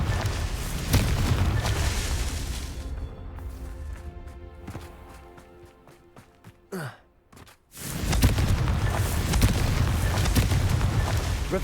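A Confringo blasting spell from Hogwarts Legacy erupts into a loud, roaring explosion that fills the scene, dies down into quieter rumbling, and then is followed by another sustained burst of noisy blast and debris.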